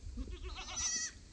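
A single goat bleats briefly on a farm at a moderate distance, a wavering nasal cry over faint low background rumble.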